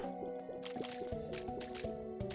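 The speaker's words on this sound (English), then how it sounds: "I am going to drink some water as I transition floors" Close, quiet gulps and small wet swallows come from someone drinking water between stretches of video game play, with faint game music beneath.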